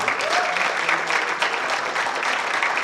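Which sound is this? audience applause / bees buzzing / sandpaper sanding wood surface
audience applause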